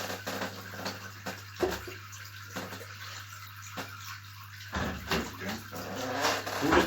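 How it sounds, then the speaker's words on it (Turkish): Water is poured slowly from a pitcher into a container during an aquarium water change, a steady soft splashing over a low hum with no speech. "bir manşapaya suyu yavaşça döküyorum"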